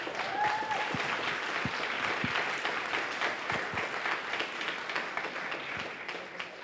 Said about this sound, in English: the whole KIS family deserves a great round of applause from all of us